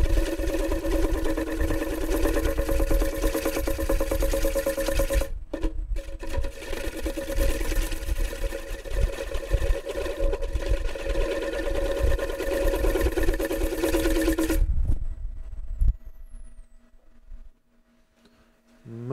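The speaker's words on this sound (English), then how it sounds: "this is my spindle roughing gouge" A spindle roughing gouge held on edge cuts punky maple on a running wood lathe, a sustained buzzing hum with a pitched whine that cuts out briefly mid-way, resumes, then stops, leaving near silence.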